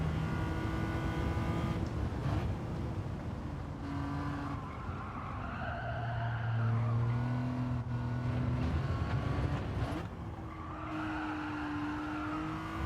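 A race car in the Gran Turismo 7 video game, engine droning and shifting pitch as tires squeal and skid under hard braking, loud and continuous throughout without speech.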